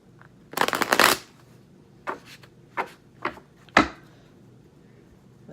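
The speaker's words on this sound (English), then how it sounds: "let me go ahead and get these cards a little bit warmed up" Tarot cards shuffled close up: a long riffling burst, then several shorter separate riffles and taps with pauses between.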